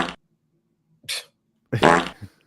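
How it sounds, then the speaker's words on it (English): Cartoonish fart sound effect in three separate blasts: a short one, then a brief second, then a longer wet, buzzing squelch that trails off, all loud and close with silence between. "Where's the fart sound for sus?"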